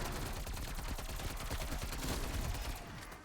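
Rapid automatic gunfire in Call of Duty Cold War Zombies on the Die Maschine map, a dense continuous burst of shots lasting a few seconds, played fairly quietly.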